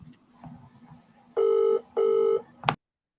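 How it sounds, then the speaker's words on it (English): A phone ringing during an online group session, two loud electronic ring bursts in a row, ending in a short click, with faint background noise before it and no speech. "Someone's phone's ringing."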